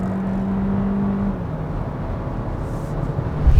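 A 2021 Hyundai Tucson compact SUV accelerating smoothly toward the redline, heard from inside as a steady engine hum that holds a tone and then drops slightly, continuous and moderately loud.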